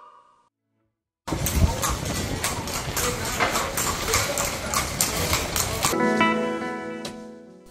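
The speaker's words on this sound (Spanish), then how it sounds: "estos coches aún son tirados por caballos" Horse-drawn carriage clip-clopping along a street in the walled old city of Cartagena de Indias, a steady rhythm of hoof strikes, fairly close and loud over street bustle, with a brief whoop of voice.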